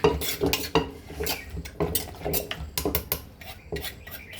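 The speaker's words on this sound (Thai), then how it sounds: "คลุกเข้าให้มันเข้ากันเลย" Pounded green papaya salad being mixed with crab paste and ginger leaves in a pot, giving repeated clinks, scrapes and stirring knocks of utensils against the pot, fairly close and steady with no voices.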